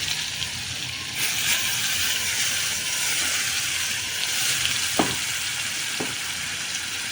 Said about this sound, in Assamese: জিৰা ফোৰণ দি দিম, অকণমান পাঁচফোৰণ দিম, বেছি নাই, অকণ দি আদা নহৰু পিঁয়াজৰ পেষ্টটো ঢালি দিম।